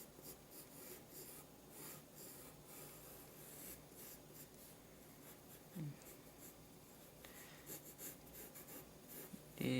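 A pencil or pen scratches and rubs across paper while a manga figure is drawn, making soft, continuous close-up strokes with a few brief louder scrapes near the end.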